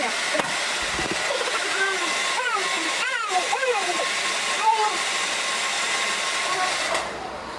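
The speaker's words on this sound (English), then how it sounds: "Your blow dryer and kind of blow that just a little bit." A blow dryer hums steadily and loudly, close up, drying freeze spray on a wig, while someone talks over it before it cuts off near the end.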